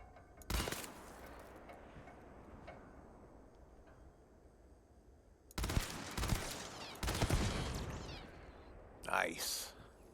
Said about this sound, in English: There's definitely a turret there.